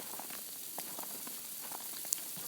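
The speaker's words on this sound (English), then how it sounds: "It's actually freezing rain out." Freezing rain falls steadily outdoors along a walking path, a soft continuous patter and hiss with scattered faint drops, fairly quiet throughout with no voices.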